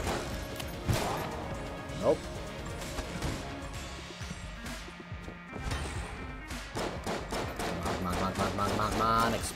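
Table shot apart in Enter the Gungeon, rapid bursts of gunfire with crashing, smashing impacts and clattering debris over busy game sounds, while a player talks throughout.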